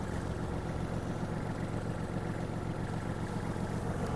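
A Kubota GL-280 mini tractor's small diesel engine idling steadily up close while warming up, a low, even rumbling chug that continues without change throughout.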